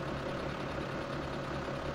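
A tractor in Farming Simulator 17 idles with a steady, low, continuous engine hum, even and unbroken, heard alone.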